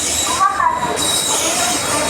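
An express passenger train runs from Guwahati to SMVT Bangalore and pulls into Perambur railway station. Loud, close wheel squeal and rail noise carry on steadily throughout.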